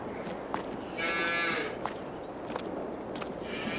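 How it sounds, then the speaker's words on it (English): Cattle on a farm in Farming Simulator 22 moo in two drawn-out calls, the first louder and nearer, over a steady bed of ambient outdoor game noise with faint footstep-like clicks. "The cows should be fine."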